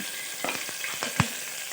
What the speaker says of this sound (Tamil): நம்ம நறுக்கி வச்சுருக்கிற வெங்காயம் பச்சை மிளகாவை சேர்த்துடலாம்